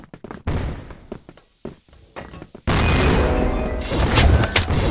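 A smoke grenade in the shooter game Crossfire pops after a few scattered thuds and steps, then releases a loud, sustained broadband hiss that carries on to the end.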